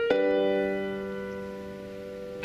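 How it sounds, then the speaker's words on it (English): A blue note struck on piano, major and minor thirds sounded together in one chord, rings out from a clear attack and slowly decays over a couple of seconds, alone with no talking. "That's a blue note."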